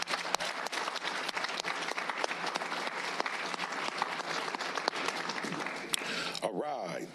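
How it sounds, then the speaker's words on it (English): Audience at a public school board meeting applauds steadily for several seconds, dense continuous clapping that carries close and loud before cutting off into a brief voice at the end. "we're going to give Lincoln a round of applause anyway"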